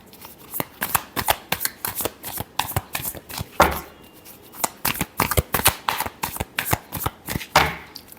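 Tarot cards are shuffled by hand in a steady run of crisp, close riffling bursts, each a quick papery flutter, repeating rhythmically with brief pauses between.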